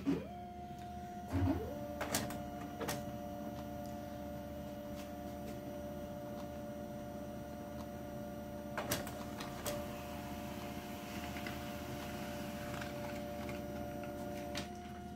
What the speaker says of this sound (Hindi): ये तो फिलहाल आपका प्रिंटर का टेस्ट पेज प्रिंट है मतलब सेल्फ टेस्ट पेज जो प्रिंट होता है वही वाला है